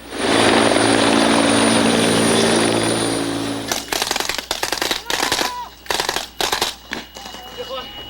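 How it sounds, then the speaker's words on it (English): Military helicopter rotor roar close by during a Canadian Forces exercise at Charging Bison 2006, fading as a rapid burst of blank machine-gun and rifle fire crackles in irregular volleys. "a helicopter dropped to raid an enemy hideout and rescue hostages. Even though they are only using blanks, the exercise is intense"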